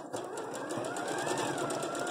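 A sewing machine stitches quilt fabric pieces placed right sides together, a steady fast whirring hum of the needle running continuously at close range, fairly quiet and alone.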